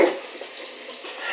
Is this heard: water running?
yes